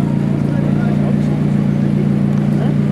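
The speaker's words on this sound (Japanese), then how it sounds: "これエンジンかかってるんです" A McLaren car engine idles at the Motor Fan Festa 2023 event, a steady, loud low drone that holds unchanged throughout, with people talking over it.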